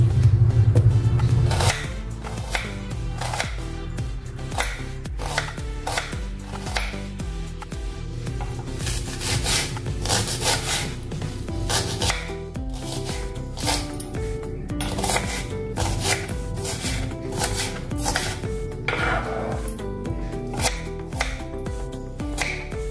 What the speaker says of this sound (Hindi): प्याज को काट लेंगे अभी